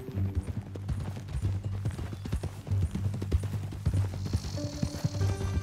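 Horse hooves clip-clop at a steady walking pace in Red Dead Redemption 2, close and clear over a low drone of ambient music, with soft tack creaks and no speech.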